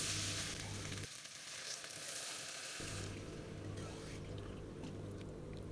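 Water poured into a pan of frying chicken breast, a loud sizzle that briefly drops away then rushes back as bubbling hiss, close and continuous without speech.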